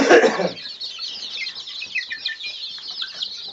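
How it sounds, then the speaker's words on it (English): Many chickens cluck and chatter together in a barn in a dense, continuous flock sound, with a louder burst of noise at the start. "Chickens are everywhere."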